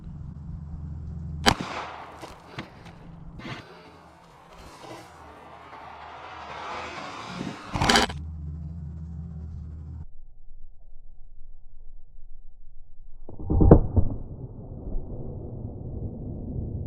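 A Glock firing 9mm Hornady Hunter 115-grain +P Monoflex rounds into a water jug about 10 feet away outdoors: a few sharp, widely spaced shots with splashy rumble and quiet stretches between.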